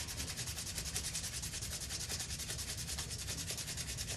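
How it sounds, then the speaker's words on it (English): Steady, continuous scratchy rasp of sanding down a tight-fitting craft piece, close and even in rhythm throughout with no talk. "Probably be able to sand it off."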